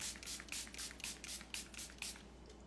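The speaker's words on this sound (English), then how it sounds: "Then you're going to take your setting spray" Makeup setting spray misted onto the face, a rapid series of short hissing spritzes in quick rhythmic bursts, close and fairly quiet, with no talking.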